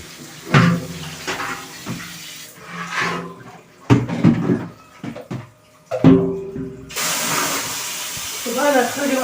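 Clean water pours and runs down inside a home bathroom, a hissing rush that comes in bursts and grows steadier near the end, with someone talking between and over the flow.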